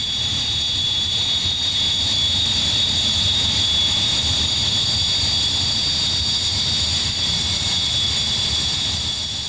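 A Hawker Hunter T-8 jet taxis in after a training flight with a steady, loud engine whine and rumble that holds constant throughout.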